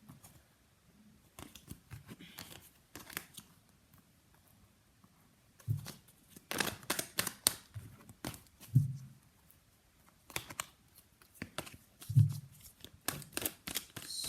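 Tarot cards being shuffled and pulled, giving soft papery riffles and slaps in scattered bursts, quiet at first and then denser and louder toward the end, with no voices.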